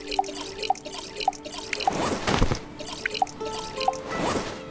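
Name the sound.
filling water bottles in video game Stranded Deep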